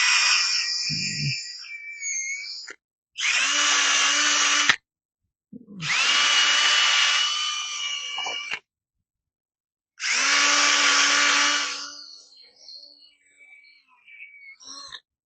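A power tool grinds years of aluminum corrosion off the intake of an F250 truck in four long, loud whirring bursts separated by short silences, with a brief voice heard in between.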